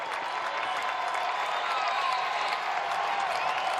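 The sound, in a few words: baseball home crowd cheering as Louisville gets runner in scoring position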